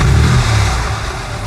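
A Porsche 911 engine runs with a worn ticking fault, a loud steady mechanical drone heard up close, with no voices.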